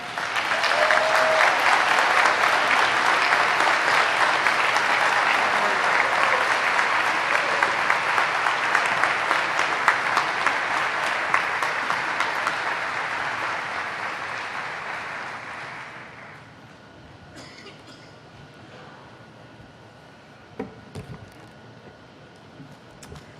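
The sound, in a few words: audience applause at honors ceremony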